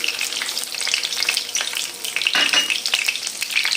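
Edible gum (gond) fries in hot oil in a pan over medium-low heat, a close, crackling sizzle with bursts of popping, alone without voices.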